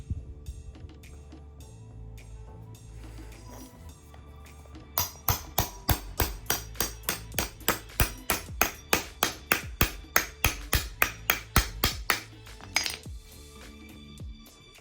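Punching a hole for a strut rod with the supplied tool while installing a strut brace on a 2024 Mini Cooper JCW: a rapid run of about twenty sharp metallic taps in steady rhythm over a low background hum.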